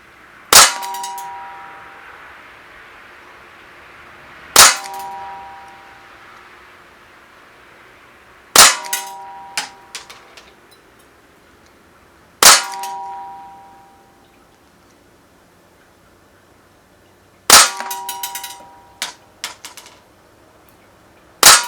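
Cybergun IWI Jericho 941 metal-slide CO2 BB pistol firing: sharp, loud metallic cracks, singly and in quick pairs, with ringing decay and pauses between groups of shots; no talking.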